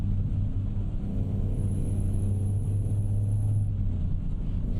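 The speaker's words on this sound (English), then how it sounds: "engine that was loud and had a lot of power." A loud DAF XG truck engine with a powerful upgraded engine in a modded truck driving video game, giving a continuous deep, close rumble that stays steady throughout, with a faint high whine partway through.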